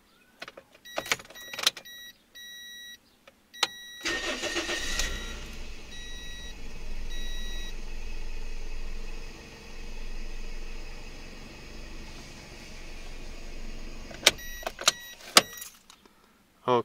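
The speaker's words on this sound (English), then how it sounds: "the car sounded like it wanted to die" Cold Toyota Echo engine idling roughly after sitting overnight, a steady low rumble that sags and dips as if about to stall, with a few sharp clicks and beeps at start and end.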